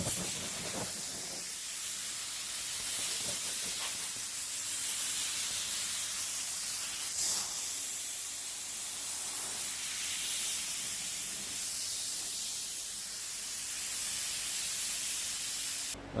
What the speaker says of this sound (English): I've got a couple of fans going over there.